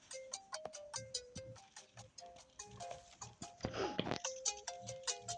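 A melodic electronic phone ringtone loops a bright, beeping tune again and again, with a short noisy rustle partway through.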